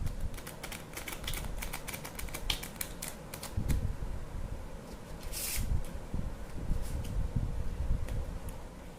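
Playing cards are slid, shuffled and moved on a table, a quick run of light ticking snaps and flicks close by, thinning out into scattered soft clicks.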